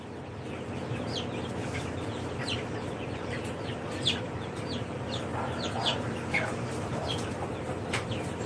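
A young, fully feathered chicken makes soft, scattered clucks and chirps over a steady indoor hum, with the calls faint to moderate and irregularly spaced.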